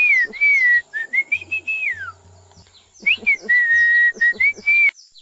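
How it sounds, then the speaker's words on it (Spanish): Two phrases of Mazatec whistled speech, clear sliding whistles rising and falling in pitch, close and loud, separated by a short pause. "Cada tipo de silbidos significa algo diferente."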